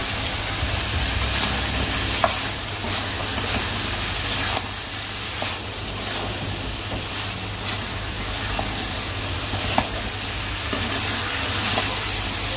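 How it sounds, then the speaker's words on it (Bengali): Fish cooks down in a spicy curry with an even, hissing sizzle that fills the whole stretch. Periodic clinks and scrapes of stirring come through, and no one speaks. "আমি এখন তরকারিটাও দিয়ে দেবো।"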